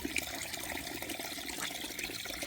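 Aquarium filter and air compressor bubbling water in a tank, a steady quiet gurgling and fizzing wash of small bubbles, continuous and close, with no talking.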